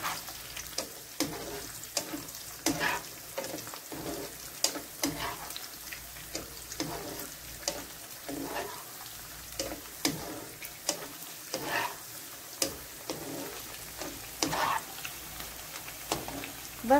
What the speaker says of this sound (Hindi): तो हम सबको लाइट पिंक पिंक फ्राई कर लेंगे।